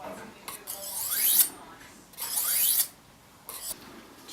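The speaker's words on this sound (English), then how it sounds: "So basically you're polishing the edge of your knife." A knife edge being polished on a sharpening stone: three separate rasping strokes, each a bright, hissy scrape that rises and then cuts off, heard up close with short quiet pauses between them.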